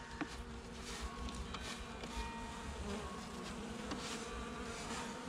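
Honeybees hum at an open hive during a winter colony check, a dense, continuous buzz of many insects close by with small flickers as individual bees pass, and no talking.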